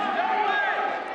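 Crowd at a high school wrestling match inside an old field house in Shawnee, Oklahoma, a dense, continuous roar of many voices cheering and shouting, loud and unbroken for a brief moment.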